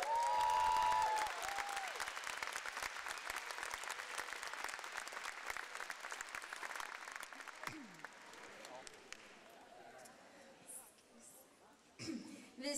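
Applause for the house band at a Halmstad festival event, a dense crowd clapping that starts loud and gradually thins and fades over several seconds, with coughs and murmurs near the end and a brief voice at the start.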